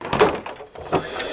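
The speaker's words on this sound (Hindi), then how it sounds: "दरवाजा खोलो अंजलि" A door opens indoors with a couple of dull knocks and thumps, close and fairly loud, the second impact following about a second after the first.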